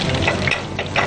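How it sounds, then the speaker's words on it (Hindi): Kebabs made without egg sizzle in oil in a pan, a close, steady crackling fry lasting about a second. "आराम से फ्राई हो रहे हैं।"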